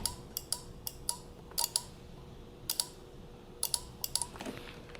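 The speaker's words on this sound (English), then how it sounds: "Whenever you touch it, you will hear the spring click." An automotive relay clicking as its coil is energized: sharp, faint, close-up clicks arriving irregularly, sometimes in quick pairs, against a quiet background.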